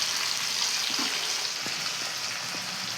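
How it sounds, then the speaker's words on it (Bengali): Garlic paste sizzles steadily in hot oil in a village-style Bengali chicken curry made with freshly ground spices, a dense, even frying hiss that stays close and constant throughout. "এবার আমি দিয়ে দেব রসুন বাটা"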